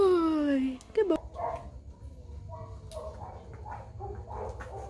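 A dog in obedience training whimpers with a high, falling whine, then gives a sharp bark or yip. Softer scattered dog sounds and low voices follow in the background.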